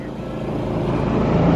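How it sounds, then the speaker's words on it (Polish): A tractor at a Christmas tree farm runs with a steady low engine drone that grows slightly louder over its short span, nearby and continuous. "Jest traktor."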